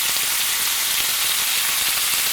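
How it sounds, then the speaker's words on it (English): Steak sizzles loudly and steadily in a hot pan, a continuous bright crackle with no talking over it. "we're just going to add the steak at this time. Ooh, nice sizzle."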